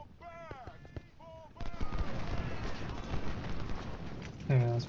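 An artillery shot in Ultimate General: Civil War: birdlike cooing and chirps give way to a sudden rumbling blast that rolls on with crackling, then a heavier boom at the end.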